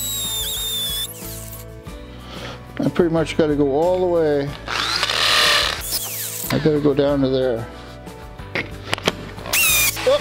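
A hammer drill bores mounting holes for a Baileigh BR-18M-18 bead roller, with a couple of short, harsh whirring bursts and mechanical clicks between bouts of nearby talking.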